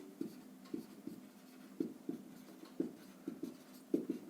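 Pen or pencil writing by hand during a class 10 geometry lesson, a series of short scratchy strokes repeating in irregular bursts, close and fairly quiet, with no talk.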